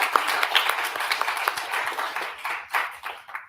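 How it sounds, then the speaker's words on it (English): An audience at a gun control debate watch party claps for Spike Cohen, with crisp, dense clapping that holds steady and then thins out toward the end. "Round of applause for Spike Cohen there."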